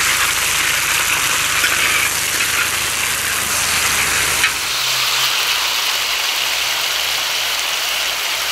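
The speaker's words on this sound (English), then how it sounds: "We're gonna put the pork in there right now and get that thing sizzling." Pork deep-frying in hot oil for a guiso de puerco, a loud, constant close-up sizzle and hiss that shifts in texture partway through as the meat settles in the pan.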